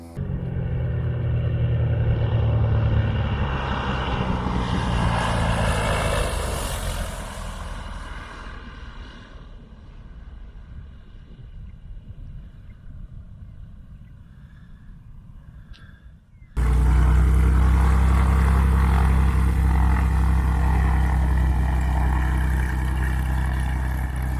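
A RANS S-7S light airplane with a turbocharged Rotax engine comes in to land, a broad engine rumble and wind noise that swells, eases into a lower drone, then turns abruptly loud and close near the end.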